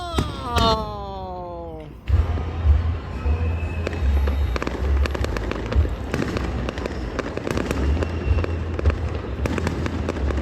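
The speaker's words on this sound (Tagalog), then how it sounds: "Almost 8 minutes na mga kalibot suroy yung fireworks nila dito." A long fireworks display: a whistling rocket rises, then rapid, dense crackling bursts and booming explosions follow one after another, loud and sustained, with low thumps throughout.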